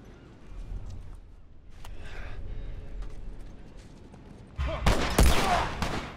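Video game gunfire in The Last of Us Remastered: a few soft shots early on, then a loud, close burst of rapid shots near the end over a low ambient rumble.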